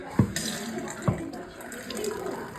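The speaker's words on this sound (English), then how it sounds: "Open up the taps." Water runs from taps opened during a plumbing repair on a leaking valve, a steady soft hiss and splash with a couple of dull knocks near the start.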